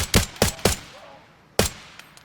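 Gunfire in a video game: four sharp, loud shots in an uneven burst, three close together and then one after a pause, with a couple of fainter pops trailing off and no talking.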